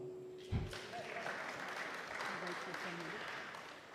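An audience applauding at an inaugural professorial lecture, a soft, distant wash of clapping with a voice speaking over it and a brief thump near the start.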